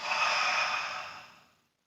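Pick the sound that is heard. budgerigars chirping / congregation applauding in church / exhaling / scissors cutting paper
exhaling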